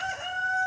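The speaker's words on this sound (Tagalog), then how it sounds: "Chicken." A rooster crows once, a loud, close, sustained call standing alone with no talk.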